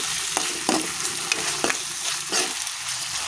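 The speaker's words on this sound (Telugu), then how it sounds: "అల్లం పేస్ట్ వేసేసుకుని తిప్పేసుకున్నాం." Ginger paste fries in a pan for a snakehead fish curry while a spatula stirs it, producing a continuous close sizzle broken by several distinct scraping strokes at an uneven rhythm.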